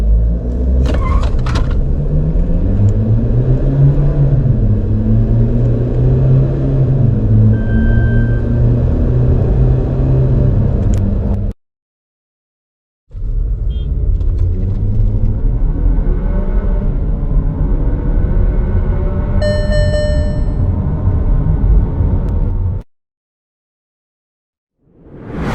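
Skoda Kodiaq and Toyota Fortuner SUVs each accelerating hard from 0 to 100 km/h, loud engine drone climbing and dropping through gear changes in two long runs separated by a short silence.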